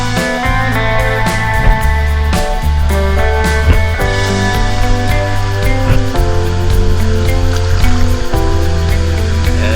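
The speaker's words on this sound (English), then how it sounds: "This is the waterfall at the adult pool." Loud, steady rush of a waterfall pouring into an adult pool at the Kona Outrigger Resort, continuous and close, with bright splashing across the whole clip.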